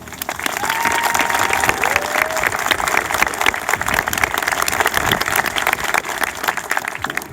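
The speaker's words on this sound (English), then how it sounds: "Please join me in a round of applause for our recruiter." An audience at a Marine Corps recruit graduation at MCRD Parris Island applauds loudly and steadily, a dense wash of many hands clapping close by throughout.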